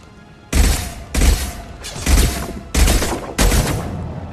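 Gunfire in a Mass Effect 2 firefight: five loud, close bursts of shots about half a second each, separated by short pauses, with heavy low booming thuds.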